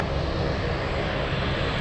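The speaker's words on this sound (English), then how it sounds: "MD-11 on the move." A McDonnell Douglas MD-11 takes off at Anchorage airport, a broad, steady engine roar held loud and close throughout a short stretch with no voices.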